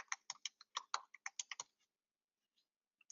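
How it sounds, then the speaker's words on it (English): Quick typing on a computer keyboard while entering a partial physical template in clinical software: a close, dry run of about a dozen key clicks in uneven rhythm for a second and a half, then near silence with a couple of faint taps. "we type in partial physical"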